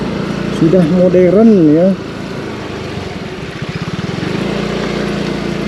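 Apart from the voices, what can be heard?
tractor plowing rice field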